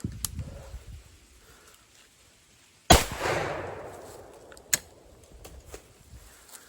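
A Henry .410 single-barrel shotgun, loaded with 3-inch magnum shells, fires one loud, sharp report outdoors, its echo trailing off over the next second, followed by a fainter click of the action.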